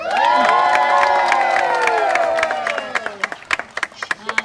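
An audience at a multi-species wildlife show at Six Flags Discovery Kingdom cheers and whoops loudly in a sustained burst, then the roar fades into scattered clapping.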